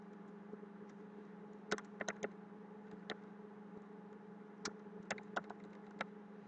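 Quiet tapping on a computer keyboard as a short image label is typed, a scattering of light clicks in uneven bursts over a steady low electrical hum.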